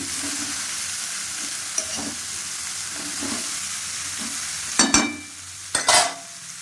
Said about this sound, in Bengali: দিয়ে নেড়ে দিলাম।